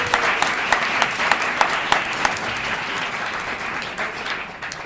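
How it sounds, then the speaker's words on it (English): An audience at a U.S. House candidate forum applauds the five candidates with steady, dense clapping that holds for several seconds and then tapers off slightly. "You should give them a round of applause"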